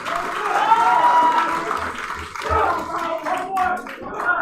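At a powerlifting national championship, a crowd claps and cheers after a lift, with sustained applause and shouting that rises and falls, and a commentator talking over it.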